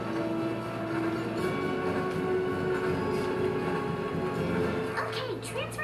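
Subway train riding between stations in a video game: a steady rumbling rail drone with clattering and a rising squeal near the end, running under continuous talk.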